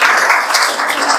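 Applause for Kapil, a short, loud, continuous burst of clapping from a group heard close up, no talk.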